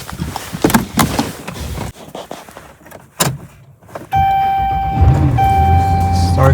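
A $900 Dodge Ram pickup with a Hemi engine cranks and fires up after door and cabin handling noises, then settles into a steady, loud idle.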